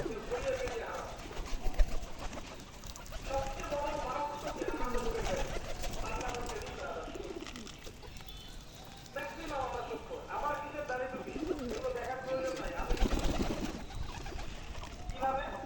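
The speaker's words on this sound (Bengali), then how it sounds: "কবুতর হাতে বসে খাচ্ছে" Pigeons, including Gola, Giribaz and Lotan breeds, coo while perched on a hand and eating from it, giving soft repeated cooing close by with faint shuffling and a voice talking over them.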